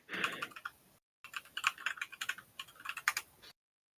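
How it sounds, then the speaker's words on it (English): Rapid computer keyboard typing, close and distinct, with irregular clusters of key clacks broken by a short pause, no voices over it. "One of you is typing a lot."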